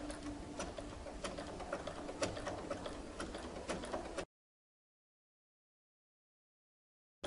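A sewing machine stitches elastic onto underwear, a close, even mechanical rattle with regular ticking beats for about four seconds before stopping abruptly into silence.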